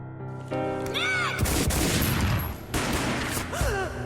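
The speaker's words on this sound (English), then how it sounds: "A gunshot boomed and she fell down in slow motion." A gunshot booms in the Max Payne shooter game: a sudden loud blast that rolls on as a dense, echoing rumble for over a second, set among a swelling synth tone with two sweeping pitch swells.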